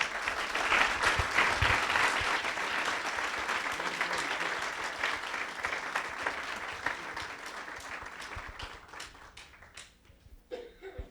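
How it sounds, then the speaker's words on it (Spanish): A seated audience at a library inauguration applauds warmly for Miguel León Portilla, a loud, dense burst of clapping that thins into a few scattered claps and fades out. "Les pido un fuerte aplauso para él."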